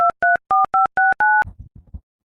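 A telephone gives six short, loud dial tones in a quick regular rhythm while a call is placed, followed by a few faint low knocks and rustles.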